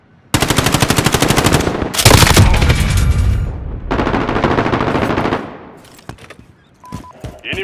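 Loud, sustained machine gun bursts from a Call of Duty: Modern Warfare multiplayer match on the Hackney Yard map, rapid automatic fire in long volleys with short gaps, then scattered quieter shots near the end.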